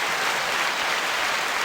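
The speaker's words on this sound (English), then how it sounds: "So let's clap it up again" Steady applause from a podcast audience, a dense wash of clapping heard close and unbroken.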